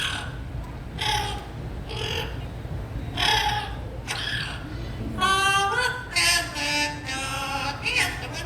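A talking mimic bird at a Walt Disney World bird show sings a song in a run of whistled, warbling phrases, first in separate bursts and then in a denser melodic passage with layered tones.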